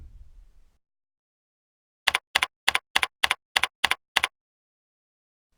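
Eight crisp keystrokes on a computer keyboard tap out a short field name in a quick, fairly even burst, alone after a faint low rumble fades into silence.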